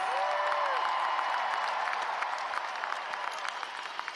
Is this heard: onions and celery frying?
no